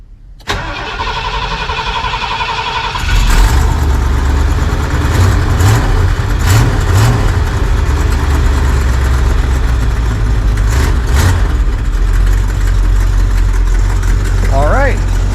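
A classic fuel-injected truck engine cranks, catches and settles into a loud, steady idle close by, as a person speaks now and then over the running motor.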